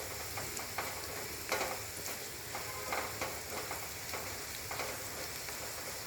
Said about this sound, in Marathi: आता यामध्ये तिखट घालून घेते आणि याला छान तेलामध्ये होऊ देते